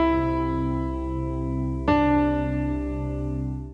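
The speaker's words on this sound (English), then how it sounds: "And then you will hear some notes played on top of the drone chord" A single note struck sharply over a sustained low drone chord in an ear-training exercise, the steady buzzing chord continuing before and after the clear attack, with no voices.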